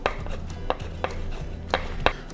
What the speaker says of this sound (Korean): 자, 이제 시금치도 아주 곱게 슬라이스 해주시고요.